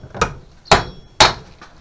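A metal part clamped in a workshop vise is struck three times with a tap stick, each hit a sharp, loud knock about half a second apart, close up with no voices.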